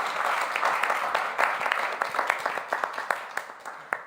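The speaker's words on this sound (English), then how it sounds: "round of applause" Audience applause at an event celebrating the Loss and Damage Fund, a moderate wash of clapping that thins out into scattered individual claps toward the end.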